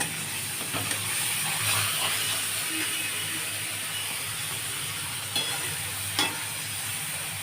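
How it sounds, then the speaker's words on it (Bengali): Spice paste of turmeric, cumin powder, ginger and garlic frying in a pan for an egg and brinjal dish, with a steady, close hissing sizzle throughout and a few brief clinks of utensils. "জিরে গুঁড়ো, আদা, রসুন সব কিছু এর সঙ্গে মেশানো আছে বন্ধুরা। আমি এতে ঢেলে দিচ্ছি"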